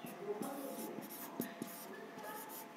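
A pen scratches out handwritten numbers in short strokes and taps, faint and close, while a teacher talks softly over the writing.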